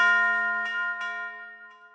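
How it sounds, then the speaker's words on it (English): A single church bell strikes once, a bright ringing tone that slowly fades, with light tapping sounds in the background. "Third sound is a church bell and it sounds like this."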